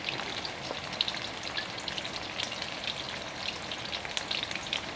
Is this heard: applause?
no